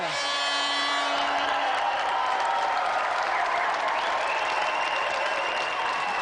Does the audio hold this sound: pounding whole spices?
no